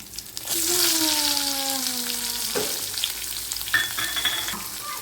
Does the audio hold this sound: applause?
no